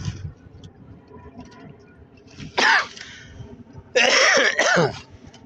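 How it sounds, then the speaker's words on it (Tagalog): A man recovering from the flu clears his throat and coughs, two sharp loud bursts close by with a raspy edge, separated by quieter background noise and no speech. "kakagaling ko lang sa trangkaso. Kaya medyo inuubo pa."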